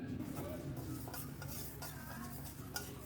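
Dry lentils (dals) toasting in a pan for a sambar and all-in-one masala powder, with steady scraping and stirring strokes and soft rattling of the grains against the metal, close and continuous at a moderate level.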